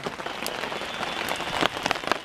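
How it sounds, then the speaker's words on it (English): Rain falls on a camping tarp at Elora Gorge Conservation Area, making a steady close patter with scattered sharper drop hits and no talk. "It is still raining, it's 11 o'clock."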